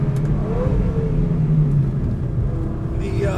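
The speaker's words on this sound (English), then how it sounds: "The engine is really doing its job" A 2004 Lamborghini Gallardo engine roars and revs at speed on a race track, a loud continuous rumble with rising and falling pitch as it pulls along.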